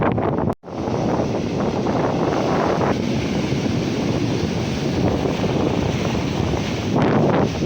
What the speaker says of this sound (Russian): Махачкалинские волны вполне подходят для занятий серфингом.